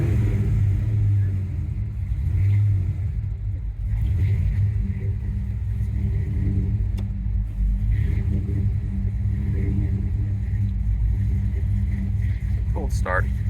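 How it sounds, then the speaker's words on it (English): A 1991 Ford Mustang LX with a GT40 crate motor idles after a cold start, a steady, loud low rumble that holds evenly throughout, with some talk over it. "Cold start. Takes a little while to warm up."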